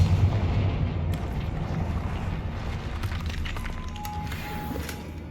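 A Confringo blasting spell goes off in Hogwarts Legacy among troll debris. A dull booming burst opens the clip and fades into a rumbling, windy tail with faint scattered crackles.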